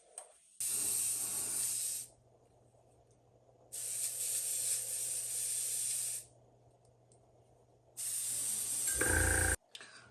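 An airbrush sprays white paint onto a wooden jointed bass swimbait in three steady hissing bursts of a couple of seconds each, separated by quiet pauses over a faint background hum.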